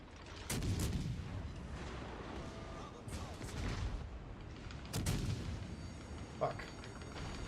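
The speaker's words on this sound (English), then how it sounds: "Little too many ships shooting me there." Naval gunfire from warships in the World of Warships Legends video game, with repeated booming salvos and rumbling impacts spread across the clip, fairly loud, layered with background battle noise.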